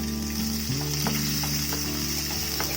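Onions hit hot oil in a tempering for Palu Pavakkai sambar and sizzle steadily, with a bright constant hiss, scattered small pops and a stirring clatter close at hand.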